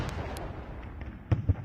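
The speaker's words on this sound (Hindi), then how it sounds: "तो ये तोपों की आवाजें।" Two deep booming cannon blasts in quick succession near the end, following a stretch of low rumbling background noise, in a historical drama scene.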